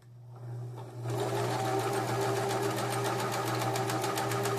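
A New Home SS-2015 sewing machine starts up after a brief moment and stitches at a steady, fast, rhythmic whir with a low hum underneath, close and loud throughout.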